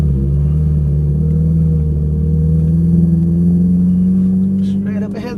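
A Ferrari 458 Italia's engine drones steadily and loud from inside the car as it pulls away, a continuous low rumble that holds for several seconds before easing off.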